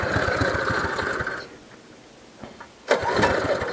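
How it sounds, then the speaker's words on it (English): The small engine on a log splitter, just after its carburetor was reassembled, fires on the pull cord and runs in a rapid chugging burst, dies briefly with a few sputters, then catches again and runs loudly. "So this is going to be the first pull after we got the carburetor back together."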